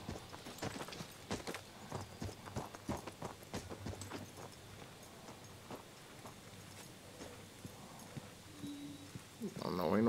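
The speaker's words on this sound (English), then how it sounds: "now I can hear footsteps" Footsteps in the Redfall video game, a steady run of thudding steps that sound almost like hooves, moderately close, with a voice talking over them at times.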